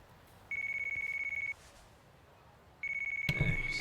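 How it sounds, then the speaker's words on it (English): A phone ringtone rings in the video game Yakuza: Like A Dragon: two loud bursts of a steady, bright electronic trill separated by a quiet pause, with a soft thump near the end. "everyone has the same ringtones in these games"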